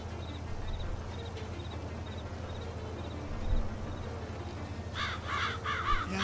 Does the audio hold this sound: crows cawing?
yes